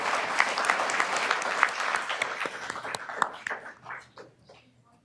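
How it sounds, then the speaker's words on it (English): An audience at a Veterans Day service applauds in honor of an airman, the clapping dense at first, then thinning into scattered individual claps and fading out near the end. "let's just give him a round of applause as well."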